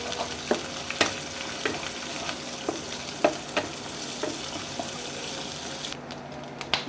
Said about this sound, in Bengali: এতে শুধু নুন দিয়ে তেল দিয়ে ডিম কুচিটা আমি ভেজে নেবো।